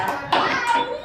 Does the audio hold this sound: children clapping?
yes